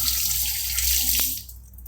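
Hands being washed under a running kitchen tap, a steady close stream of water splashing into a sink that cuts off near the end, with no voices.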